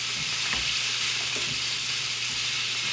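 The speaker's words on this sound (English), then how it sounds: "we want to make sure our asparagus gets tender first, so it's going to need a little bit of a saute" Asparagus sautéing in a pan, a steady bright sizzle with a few soft stirring bumps, close and continuous with no voices.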